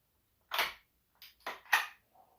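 The charging handle on a Taurus CT9 G2 carbine is worked on a tabletop: a sharp metallic clack, a short pause, then two or three quick close-up racking clicks and a faint final tap, heard alone.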